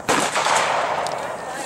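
A single loud, close 50 caliber rifle shot cracks at the start, followed by a long booming roll of echo that slowly fades.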